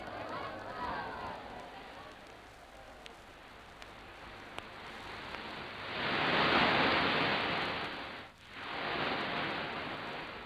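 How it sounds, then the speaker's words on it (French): Ocean waves surging and breaking, a broad, steady wash that swells louder midway, dips briefly, then rises again, heard alone in an old 1950 radio archive recording. "Voici maintenant le bruit des vagues."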